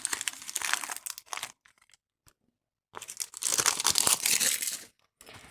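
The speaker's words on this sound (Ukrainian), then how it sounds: "Тож відклеюємо цю гігантку." A large sticker is peeled off its backing in two bursts of crinkling, tearing plastic, loud and close, with a short quiet gap between them.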